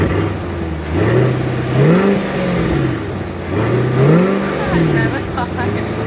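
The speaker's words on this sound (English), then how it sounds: "Come on, give it a rev." A Chevrolet Corvette C8 engine revs twice, each blip climbing and falling over steady engine rumble, with a wavering tone on top. The car sounds near and fairly loud.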